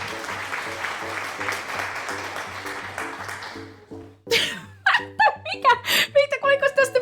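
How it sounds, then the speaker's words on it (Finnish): Game applause from Murder is Game Over: Streaming Death, a thick, steady burst of clapping for about four seconds that cuts off, followed by close voices talking and laughing. "Siellä on nyt random ääne ja tuli siis taputukset."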